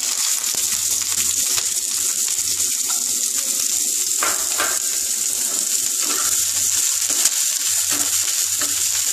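Onions frying in oil in a kadai, a continuous close sizzle with occasional stirring scrapes and clatter, steady and fairly loud throughout.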